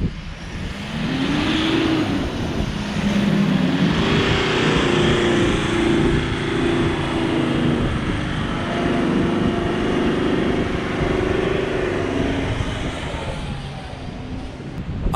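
An off-road vehicle with a throttle controller in ultimate mode drives through soft sand at Peaceful Bay, its engine droning and rising steadily under a constant rumble of tires and body noise.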